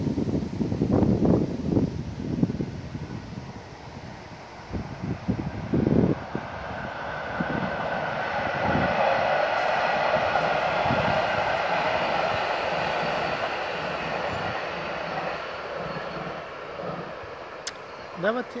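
An SJ train crosses a railway bridge near Tomteboda where a new bridge is under construction, a loud sustained rumble and rolling clatter mixed with heavy wind noise throughout.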